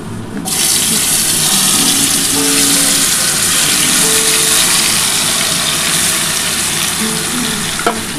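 Spiced katla fish drops into hot oil and fries with a dense, loud, continuous sizzle and crackle that starts abruptly and holds steady throughout, with faint clinks of utensils.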